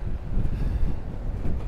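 Strong gusting wind buffets the microphone while a DJI Mavic Air 2 drone is flown outdoors, giving a steady, loud low rumble that swells and dips continuously throughout, with no talking.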